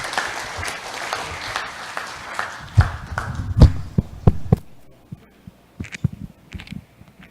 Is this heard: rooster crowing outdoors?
no